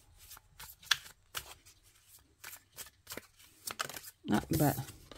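Oracle cards are handled, shuffled and laid out on a table during a French-language card reading, giving repeated soft papery slaps and rustles, with a louder flurry of handling near the end and quiet speech in between.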